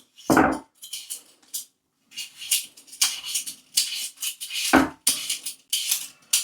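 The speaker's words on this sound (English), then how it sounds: "So I'll just take 2 potatoes. We're just going to peel them." Two potatoes are peeled by hand, with close, uneven bursts of scraping and rasping strokes separated by short pauses and a couple of louder knocks, heard alone without talk.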